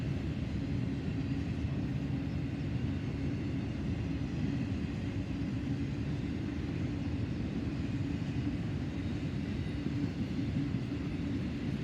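A freight train with empty spine cars, part of a trailer train, rolls past at Oak Harbor, a steady broadband rumble and rattle that stays constant throughout with no voices.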